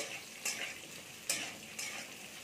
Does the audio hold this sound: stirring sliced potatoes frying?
yes